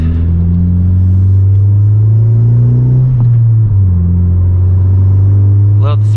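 A 10th-generation Honda Civic engine holds a steady loud drone near 3,500 RPM, then the note drops and wavers as the throttle is released, running continuously and close throughout.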